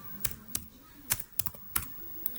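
Keys clack on a computer keyboard as commands are typed to configure a Cisco router: about eight quick, irregular, fairly faint keystrokes with short gaps between them and no talk.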